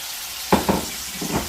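Fish frying in hot mustard oil in a home kitchen, a soft steady sizzle with a few brief louder crackles and spatters, close and without talk.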